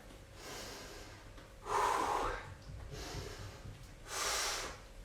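Breathing during an advanced full-body TRX workout: four close, fairly quiet breaths through the nose, two sharp sniffing inhales alternating with two softer exhales, with a short pause between each.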